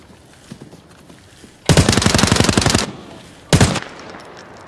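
Two loud bursts of rapid automatic gunfire in the shooter game Arena Breakout: Infinite, a long volley followed by a shorter one after a brief quiet gap.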